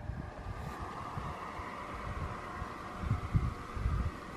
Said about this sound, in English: The wind's kind of blowing around.